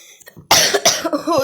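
A person coughs: a short bout of two or three harsh, close coughs following a faint breathy catch, loud and alone with no talk.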